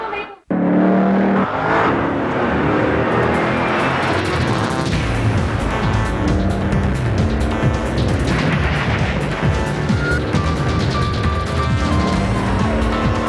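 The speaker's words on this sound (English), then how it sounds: "With a 300 horsepower V8 and Formula One inspired E-Shift, driving the Lexus GS400 is always fun and games." A Lexus GS400 with a 300-horsepower V8 and E-Shift drives in a TV commercial, with steady, loud engine and road sound carried throughout alongside music and a narrator's voice.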